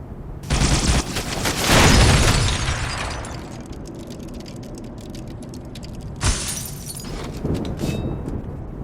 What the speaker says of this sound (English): You get enough of these needles into an enemy, they will actually combine and explode with about as much force as a grenade